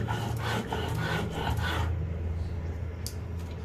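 Spice paste being ground by hand on a stone for a small-fish curry, a steady rough rubbing and scraping in repeated strokes, close and fairly loud, fading toward the end.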